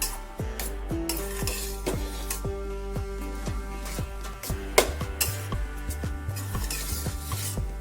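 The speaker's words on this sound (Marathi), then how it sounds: "मस्त परतून घ्यायचं आपल्याला तुपामध्ये" Grated carrot sautéed in ghee in a pan for carrot halwa, with a utensil scraping and stirring in a steady repeated rhythm, close and fairly loud with a soft sizzle underneath and no talk.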